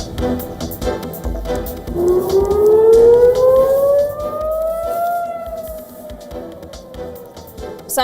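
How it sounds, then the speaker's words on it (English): An air raid siren wails over Jerusalem during an Iranian missile attack, its tone rising steadily and then slowly falling, loud and sustained over a background of scattered noise. "Sirens sound in Jerusalem as Iran launches multiple rounds of missiles towards Israel after Prime Minister Benjamin Netanyahu decl"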